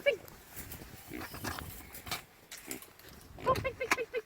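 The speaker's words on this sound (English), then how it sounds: "So we're about to open up the pig pen and take them over to their new paddock." Pigs grunt and oink near a pig pen as they are moved to a new paddock, a cluster of short snorts and squeals coming in bursts, mixed with a person's voice.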